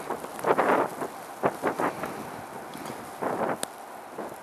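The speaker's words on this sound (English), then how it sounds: "We are currently experiencing a winter storm, and there is my manager shoveling." Blustery winter storm outdoors in Omaha, Nebraska, with a shovel scraping snow in several rough, close bursts against a steady windy background.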